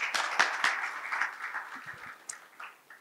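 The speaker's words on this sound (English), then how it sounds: "Let's give a round of applause," Audience applause for a presenter at a masterclass on the fourth industrial revolution, a short spell of scattered clapping with a few sharp claps that thins out within three seconds.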